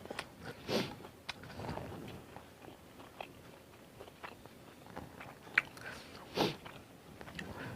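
Someone eating Isan-style cassia leaf curry, with soft, close, intermittent biting and chewing sounds and a few sharper crunchy bites, with no talking.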